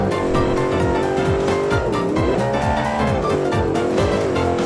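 A homemade British-style sports car drives loudly up close, its engine note rising and falling steadily as the tires squeal briefly while the car slides out under braking.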